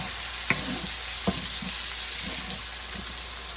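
Small pieces of bacon and onion crackle with a steady hiss in a pan, broken by two sharp scrapes or taps as they are stirred, with no voices.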